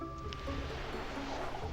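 A faucet in the Mystery Case Files: The Malgrave Incident game runs with a steady, soft, even watery hiss that holds at the same faint level throughout, with no talking.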